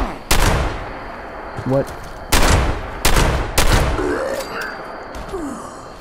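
Sharp gunshots crack out in the Fallout 76 video game, several separate loud reports spaced a second or so apart over ambient noise, with a brief spoken word from a player early on.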